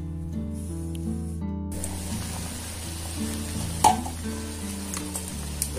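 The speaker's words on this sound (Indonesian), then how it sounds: "Rebus di air mendidih kurang lebih 10 menit." Fish bait pellets boil in a pot of water, a steady bubbling sizzle that rises after a quiet start and sits beneath loud background music.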